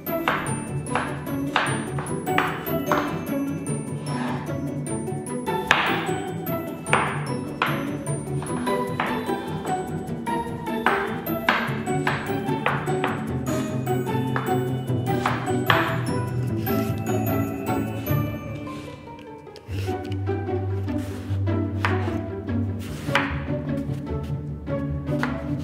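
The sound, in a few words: chopping vegetables with a knife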